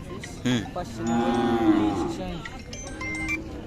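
A Khillar cow lets out one long, drawn-out moo, loud and close, with faint crowd noise and a few other animal sounds around it at a cattle market in Sangola, Solapur.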